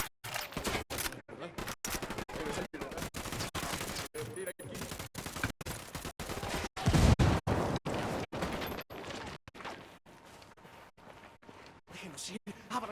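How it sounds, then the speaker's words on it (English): Rapid bursts of automatic gunfire and a grenade blast in the video game Ghost Recon Wildlands, sharp repeated cracks with a heavy low boom midway, loud and sustained throughout. "Grenade, get to cover."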